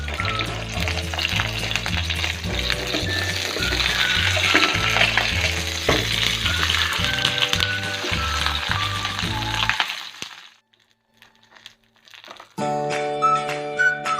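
Pearl spot fish wrapped in banana leaf fries in a pan with loud, dense sizzling and crackling and a brief rustle, then the frying cuts off to near silence before resuming.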